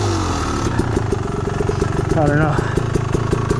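A Beta Xtrainer enduro motorcycle putters over rocks with a close, choppy engine note of rhythmic pulses and a brief rising rev, while a rider talks briefly over it.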